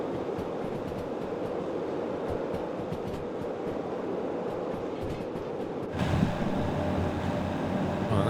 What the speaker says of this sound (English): You can get a real sense of the length of this locomotive now.